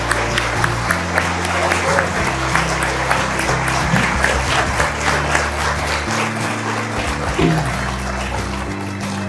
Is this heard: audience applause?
yes